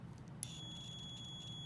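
A continuity tester held across the two ends of a wire gives a faint, thin, steady high beep that starts abruptly and holds, set against a low background hum, with no talking.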